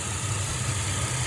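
A car engine with a patched, damaged radiator idles steadily with a low, even rumble and no noticeable revving, continuous throughout.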